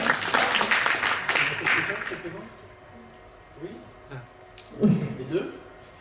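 Festival audience applause rings out loudly for about two seconds, then fades away, leaving quieter room sounds and voices talking.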